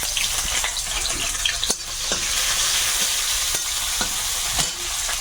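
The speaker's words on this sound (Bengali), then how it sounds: "মাছটা দারুণ ভাজা হয়েছে" River fish frying in hot oil with black cumin, green chilli, garlic and onion, a dense continuous sizzle close by with repeated scraping and clinking strokes of a spatula.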